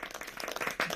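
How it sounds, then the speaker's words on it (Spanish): Short burst of audience applause at an online export seminar on Incoterms rules, quiet and uneven, rising briefly near the end. "Aplausos merecidos."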